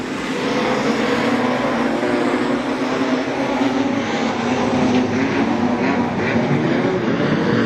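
Speedway race cars roar past at Gympie Speedway in a continuous loud engine drone with shifting pitch, heard from trackside as the pack races together.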